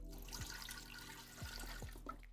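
Liquid pours into a mixing bowl for Georgian khachapuri cheese bread dough, a faint watery trickle with a few small plops, quiet and close, no talking.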